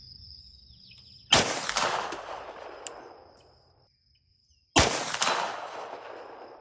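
Two sharp, loud 9mm shots from a Springfield Kuna carbine ring out several seconds apart at an outdoor range aimed at steel spinner targets, each crack decaying with a long echoing tail.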